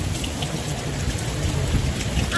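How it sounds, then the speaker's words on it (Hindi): Heavy rain pours down steadily in a village, a dense close hiss of drops on surfaces with no voices. "लेकिन एक घंटे से बारिश हो रही है और इतने खतरनाक तरीके से ना, इतने खतरनाक, इतनी तेज बारिश"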